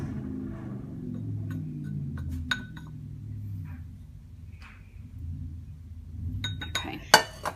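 Teaspoons clink against a container while shea butter is scooped and measured, giving a few sharp, close metallic taps and scrapes over a low background hum.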